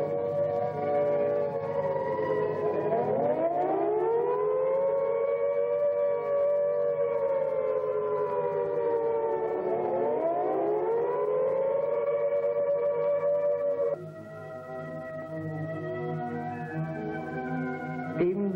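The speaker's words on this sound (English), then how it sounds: "Even the familiar old sound of the siren didn't incite me to panic." A wailing air raid siren in Preston or Blackburn, 1983, rises and falls in long sweeping cycles, loud and steady, with the tone dropping and wavering near the end.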